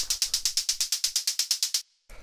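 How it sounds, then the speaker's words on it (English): Operator synth hi-hat built from white noise, playing straight 16th notes: a steady run of crisp, bright ticks at an even electronic pulse, close and clean, cutting off briefly before a final hit. "After that, we have this operator hi-hat"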